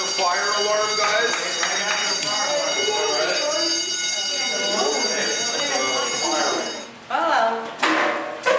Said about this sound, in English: The forum will continue right after the fire alarm